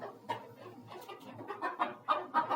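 Chickens cluck softly and repeatedly nearby while pecking at grass and vegetable leaves, a quiet run of short calls that grows busier toward the end.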